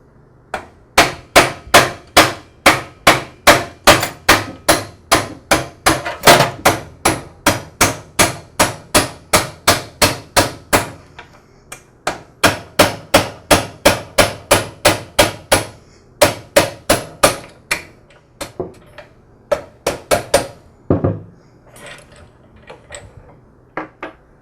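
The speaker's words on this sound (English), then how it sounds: "Now I'll go ahead and hammer the pivot pin out of the saw. I'll do that using a punch and a hammer." A steel hammer strikes a punch to drive the pivot pin out of a DeWALT DW708 miter saw, a long run of sharp, evenly paced metallic blows, loud and close, pausing briefly midway before resuming and slowing toward the end.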